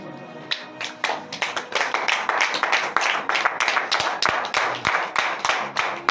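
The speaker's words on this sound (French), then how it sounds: "Veuillez vous lever sur vos pieds et donner de vives acclamations à l'Éternel Dieu ce matin." A congregation at a Wednesday morning prayer service in Benin stands and claps in lively acclaim, giving dense, steady, rhythmic handclaps that fill the room, with brief shouts mixed in.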